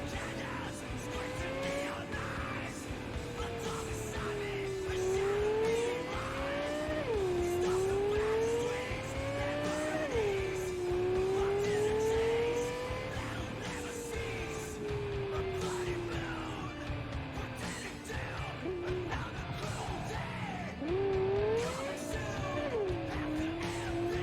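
An overturned car in Cyberpunk 2077 slides along the road, its engine whining up and down in long sweeping pitch arcs with rushing skid and scraping noise, moderately loud and sustained, a voice briefly audible underneath.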